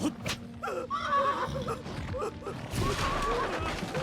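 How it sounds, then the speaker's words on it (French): A horse neighs and whinnies in the samurai action game Trek to Yomi, with hoof clip-clops and game effects mixed under the call, moderately loud across a few seconds. "Je vais prendre le cheval et y aller en courant."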